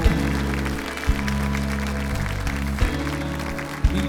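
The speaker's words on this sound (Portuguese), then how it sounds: "Aplauda mais forte." A church congregation at a Catholic worship service claps steadily and continuously, a broad, even applause layered over sustained low music with a few louder accents.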